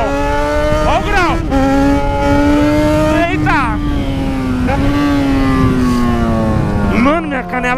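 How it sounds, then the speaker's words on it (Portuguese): Yamaha XJ6 motorcycle revving hard during a tyre burnout, a loud sustained engine wail rising and dropping in repeated sweeps, close up and continuous. "Tem que dar uma aceleradinha pro pneu voltar ao estado normal dele"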